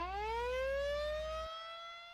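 A tornado warning siren winds up in one long, steady rising wail with a strong harmonic tone that holds and slowly fades. No voices are heard.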